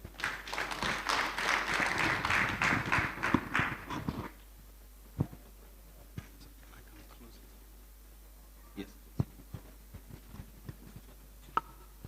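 Applause from a conference audience at an agriculture event, a full burst of clapping for about four seconds that cuts off into a quiet room with occasional isolated claps and knocks.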